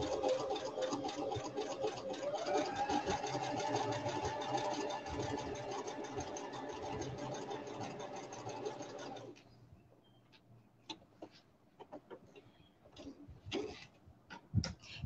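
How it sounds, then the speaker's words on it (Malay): A sewing machine runs along a seam in one long, steady, close whirring burst of rapid stitching, then stops, leaving scattered clicks and handling noises. "Kita ikut jahitannya."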